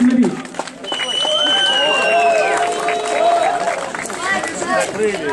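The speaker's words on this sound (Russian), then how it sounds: "Ваши аплодисменты!" A crowd at a 2014 car audio show in the village of Koshki applauds and cheers. The noise is dense and sustained, with whistling tones rising over the steady clapping and shouting.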